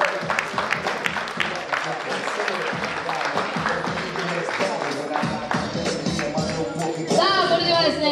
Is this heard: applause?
yes